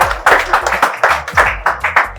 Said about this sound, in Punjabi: ਤਾੜੀਆਂ ਲਾ ਦੇ ਇੱਕ ਵਾਰੀ